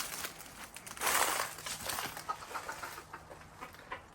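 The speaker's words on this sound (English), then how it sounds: "This here's that chicken coop that's off of the dining room." Chickens cluck and shuffle nearby in a coop off a house's dining room, with scattered rustling and crinkling noises in an enclosed space; no one speaks.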